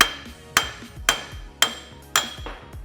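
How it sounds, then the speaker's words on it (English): Five sharp hammer strikes drive a wheel lug stud out of a Toyota MR2 hub at a steady, unhurried pace, each ringing briefly before the next blow, close and loud. "All you have to do is get a hammer and start hammering"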